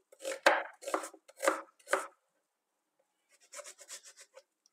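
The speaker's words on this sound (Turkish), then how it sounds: "Mantarlarımızdan sonra bir adet soğanımızı yemeklik olarak doğruyoruz." A knife chops an onion on a cutting board, four firm strokes, a pause, then a quicker run of lighter chops; close and clear, no talking.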